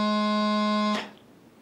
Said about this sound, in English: the note we'll get will be low G, and it sounds like this.